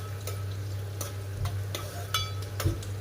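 Onions frying in a pan with pieces of cinnamon while cooking country chicken curry, a low steady sizzle broken by several sharp spoon scrapes and taps against the pan, close by.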